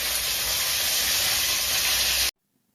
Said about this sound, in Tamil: இப்போ கருவேப்பிலை போட்டுட்டு நம்ம அரைச்சி வச்சிருக்கோம்ல வெங்காயம், தக்காளி, இஞ்சி, பூண்டு, அதை சேர்த்து வதக்கிக்கலாம்